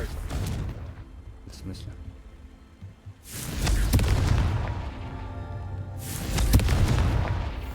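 A Confringo blasting spell from Hogwarts Legacy sets off two heavy booming explosions a few seconds apart, each with a long rumbling tail, while a voice speaks briefly.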